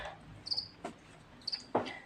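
Short chirps of crickets, a few bursts spaced unevenly over a quiet background, moderately near.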